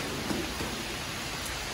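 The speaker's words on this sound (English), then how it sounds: "Yeah, it's pretty good rain." Steady outdoor rainfall hisses evenly across the whole stretch, a dense broadband patter of drops on surfaces with no voices over it.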